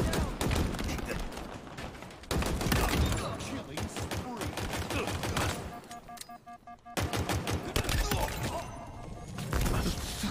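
Repeated grenade blasts mixed with gunfire in Halo Infinite multiplayer: loud, sharp explosive bursts arriving in clusters, with a short quieter gap before more impacts resume.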